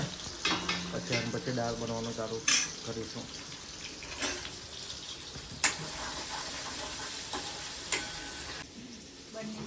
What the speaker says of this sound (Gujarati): મગનો વઘાર થાય છે.